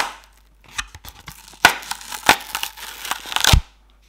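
Small beaded slime from a store-bought food-themed set is squeezed and pressed close up, giving a run of crisp crackling, popping squishes in irregular bursts with no talking.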